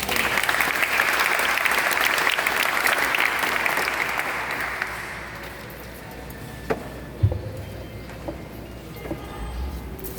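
Audience applause at an evening concert inside a Catholic church in Saint-Marc, Haiti: dense, loud clapping that fades after about five seconds into a quieter room with scattered thumps and shuffling.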